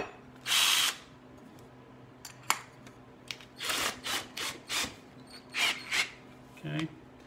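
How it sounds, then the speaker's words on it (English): Short bursts of a drill boring a deep hole into end-grain wood, several quick revs and grinding pulses close by, with gaps and a few faint background noises between them. "I put this in my drill"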